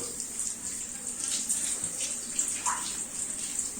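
A tap runs steadily into a bathtub, a close, constant hiss of flowing water with slight splashing variations throughout.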